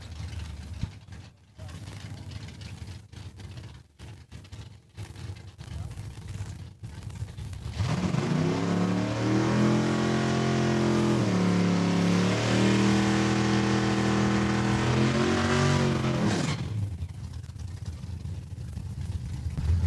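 A 1988 Ford Mustang LX launches on a drag strip at Saskatchewan International Raceway, its engine roaring loud and close and climbing through gear changes for about nine seconds. Announcer commentary comes before the run, with crowd and track ambience.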